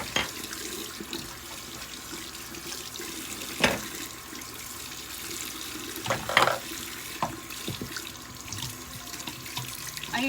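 A tap runs steadily into a sink while Fascia Blaster tools are rinsed under the stream, with occasional clunks and splashes of the plastic tools knocking about, close and moderately loud.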